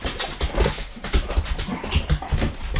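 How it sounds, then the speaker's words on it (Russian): Pit bulls playing in snow make repeated short whimpers and yelps, close and fairly loud, mixed with scuffling and panting in a lively, uneven rhythm, with no voices. "Счастливые собакены."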